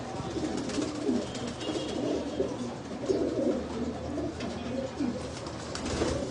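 Pigeons cooing inside a room, a steady overlapping chorus of soft low coos that continues throughout at moderate loudness with no pauses.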